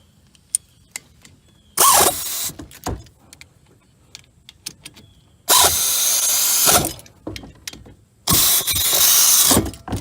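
An air-powered impact tool fires in three loud, harsh bursts of a second or more each, tightening a brake caliper bolt on a 2012 Toyota Corolla during a front brake pad job, with clicks and tool handling between bursts.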